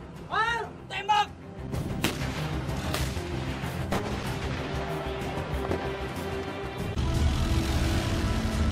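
A Leopard tank cannon of the Indonesian army fires during a crew drill, with several sharp booms spaced a second or so apart, under shouted commands and a rumbling engine.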